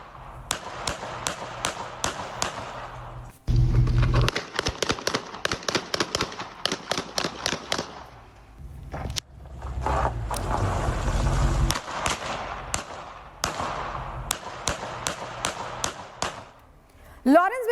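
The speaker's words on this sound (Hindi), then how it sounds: "सुनिए कैसे गोलियों की आवाज वहां गूंजी है।" Rapid bursts of gunfire crack out again and again, long volleys of sharp repeated shots echoing at a distance, with a murmur of voices in places.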